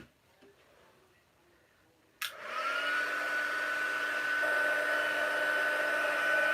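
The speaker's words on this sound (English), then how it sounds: "heat tool going on" A heat tool for embossing switches on after a quiet start and blows with a loud, steady whine and a constant airy rush, close to the listener.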